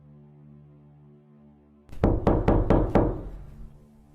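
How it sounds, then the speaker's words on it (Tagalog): Knocking on a bedroom door: five sharp, evenly spaced raps ring out loud and close after a quiet low hum, each hit leaving a short resonant tail. "biglang may kumatok mula sa pinto ng kwarto niya"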